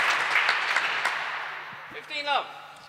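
Crowd applause at the 2017 British Open squash singles final, a broad wash of clapping that swells and fades over a few seconds, with a commentator's voice rising briefly near the end.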